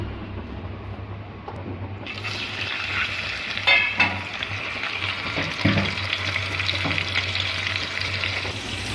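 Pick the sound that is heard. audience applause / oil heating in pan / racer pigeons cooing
oil heating in pan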